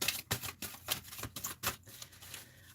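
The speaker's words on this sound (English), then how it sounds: "I'm just going to do this a little bit so you can actually see me shuffling." Playing cards being shuffled by hand during a live card-reading stream, a rapid series of crisp riffling bursts, close and fairly quiet, with no talking.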